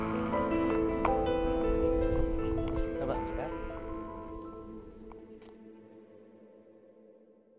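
Flock of sheep in a field, several overlapping bleats close by at first, then fading into quiet.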